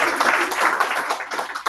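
Audience at a Toastmasters club meeting applauding together, a dense, steady patter of hands that holds at an even level for the whole stretch, with no speech over it.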